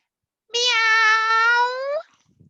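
A person's voice imitates a cat's meow in one sustained, harmonic-rich call lasting about a second and a half, close to the microphone and clear, followed by silence.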